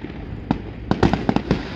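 Fireworks salute at the Mokpo port festival, a run of sharp popping bursts at a moderate distance, several in quick succession near the end, no talking.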